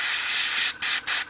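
Drakenhof Nightshade wash hisses from a spray can onto a painted miniature model base, one long burst followed by two short ones, close and loud.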